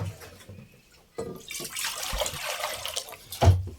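Water splashes and rushes as it pours into a container, a steady hissing flow after a few soft knocks.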